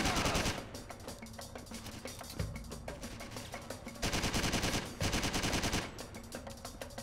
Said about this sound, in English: Okay, someone was shooting.